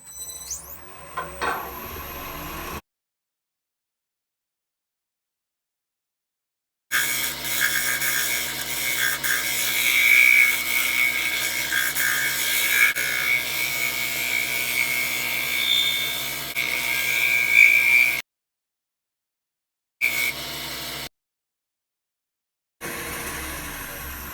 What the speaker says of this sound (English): the rest can be shear scraped